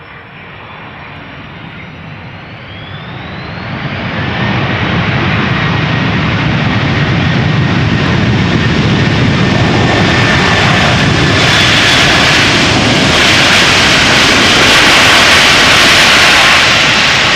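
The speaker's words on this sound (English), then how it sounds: "Delta Airlines Flight 164, 2 consecutive A330 300s, both arriving from Minneapolis, Minnesota." A Delta Airlines Airbus A330-300 arrives at Amsterdam Schiphol from Minneapolis, its jet engines roaring in as a broad, rising rush. The noise swells to a loud, sustained near pass with no talk.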